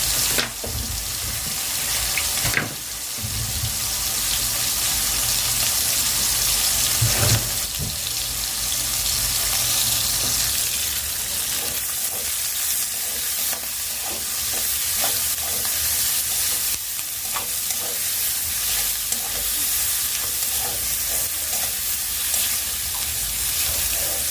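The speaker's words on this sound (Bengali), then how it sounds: "এই যে পেঁয়াজগুলো কিন্তু লাল লাল করে ভাজা হয়ে গেছে" Onions frying to a reddish brown in a home kitchen pan give a steady, close sizzle and hiss across the whole stretch, broken by occasional stirring scrapes and clinks, with no talking.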